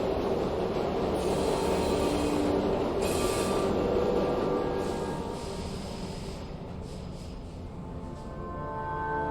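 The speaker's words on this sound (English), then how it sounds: "We have reached the end of the line where this train will terminate." Train in the video game Luna Abyss arriving at the end of the line, a continuous loud rumbling with wheel noise that eases slightly toward the end, with no talking.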